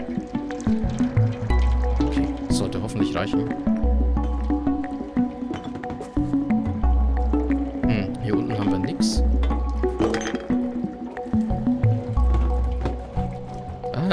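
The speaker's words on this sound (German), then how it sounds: "So, wir werden erstmal schnell was trinken." A cat laps water inside the video game Stray, giving soft, repeated wet drips and squishes over a low recurring musical pulse, while someone talks over it now and then.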